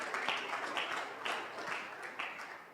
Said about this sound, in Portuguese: Aplauda o Senhor bem alto